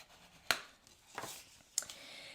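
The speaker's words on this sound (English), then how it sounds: "Bring in that bone folder, give it a good crease at the top, the inside" A bone folder presses a crease into the top and inside of a folded paper craft. It makes three short, crisp scraping strokes, close and fairly quiet, with no voices.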